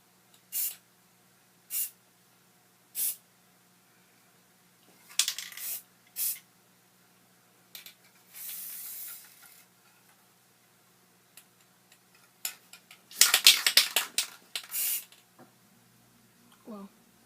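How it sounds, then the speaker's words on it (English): Spray paint can misting paint onto a Halloween costume in short hisses, one longer spray and a final cluster of spurts, interspersed with small clicks and taps, close and moderately loud. "you want to spray it a little."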